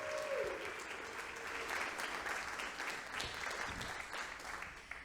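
Applause rises from the audience at a fundraising event, a sustained and even roar of clapping that holds throughout.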